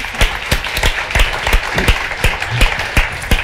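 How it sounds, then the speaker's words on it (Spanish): An audience applauds at a Spanish magazine presentation on science and technology, the clapping uneven with distinct strong claps standing out in a loud, close burst. "Un aplauso."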